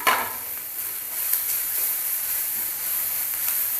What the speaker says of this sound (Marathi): मोठ्या गॅसवरतीच हे परतून घ्यायचं आहे.